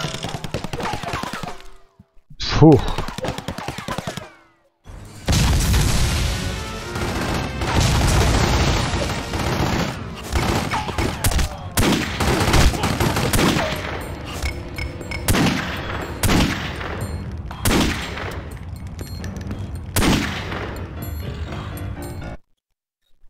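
Bursts of video game gunfire from The Godfather: repeated loud shots and rapid volleys with booming impacts and mechanical clicks, broken by short pauses, with a man briefly exhaling over the action.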